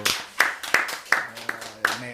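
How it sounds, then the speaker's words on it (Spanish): A few people clapping during a Christian talk show episode, sparse, distinct hand claps in an uneven rhythm, close and fairly quiet, with brief talk mixed in. "Yo creo que eso se merece un aplauso."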